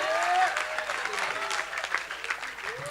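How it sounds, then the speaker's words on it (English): An audience at a school induction ceremony breaks into brief applause, a moderate, scattered clatter of hands heard with some voices over it. "You can applaud again, you know?"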